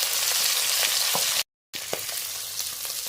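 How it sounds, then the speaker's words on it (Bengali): Prawns fry in mustard oil in a wok, giving a loud, continuous sizzle with occasional sharp pops and spatters, cut by a brief moment of complete silence partway through before the frying resumes. "কড়াইতে সর্ষের তেল, তেলের উপরে কটা চিংড়ি মাছ দেব।"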